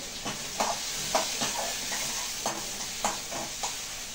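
Chopped tomato with red chili and turmeric powders sizzles steadily in a frying pan, with a spoon scraping and stirring in a regular rhythm of sharp taps over the continuous hiss.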